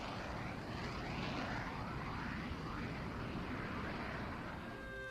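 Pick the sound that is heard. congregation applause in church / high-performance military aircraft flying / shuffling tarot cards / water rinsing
high-performance military aircraft flying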